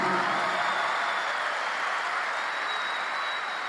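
A church congregation applauds loudly and continuously, a thick, even wash of many hands clapping that fills the room and stays steady from start to finish.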